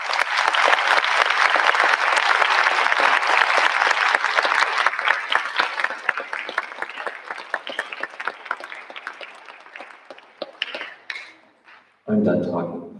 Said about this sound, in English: All these students deserve a great round of applause.